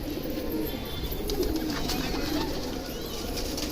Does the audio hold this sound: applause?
no